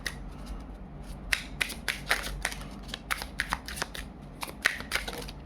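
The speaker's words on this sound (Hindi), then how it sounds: "let me shuffle once again." Tarot cards shuffled by hand in quick bursts of crisp riffling and slapping, close and moderately loud with short gaps between the runs.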